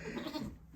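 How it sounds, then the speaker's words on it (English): A nanny goat, mother of triplets, gives a single short bleat close by on a farm, with no talking. "This is one of their other goats, and she has her triplets right down here."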